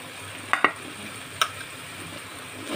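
Boiled chicken frying with chat masala and garam masala in a pan, a steady low sizzle with a few sharp spatula clinks near the start and one more midway.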